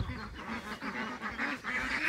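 Young ducks and geese on a poultry farm panic together, a close, overlapping jumble of honks and quacks with rhythmic nasal calls rising and falling.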